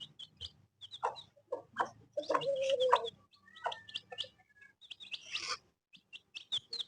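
A hen and chicks cluck and peep at close range on a farm, short irregular clucks mixed with thin high chirps and a longer squawking stretch in the middle, fairly quiet overall.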